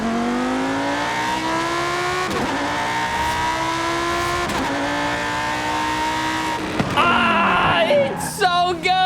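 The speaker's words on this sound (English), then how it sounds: "I am in a legit race car." A race car from the Italian Exotic Car Pack in the video game Forza Horizon 5 revs hard through several upshifts. The loud, steady engine whine climbs in pitch and ends in sharp tire squeals.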